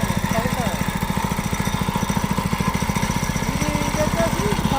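The engine of a pesticide sprayer machine used in a chilli field chugs steadily nearby, a rapid, even low thumping pulse, with someone talking over it.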